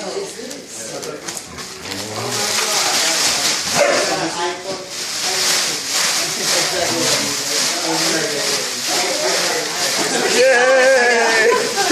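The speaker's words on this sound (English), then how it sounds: "Settle down, dogs." Dogs bark and whimper excitedly indoors while bubble wrap is shredded as a present, yelps and whines mixing with people talking over them throughout.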